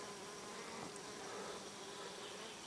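Steady, dense buzzing of bees on flowering chamomile, continuous and close throughout, with no voices.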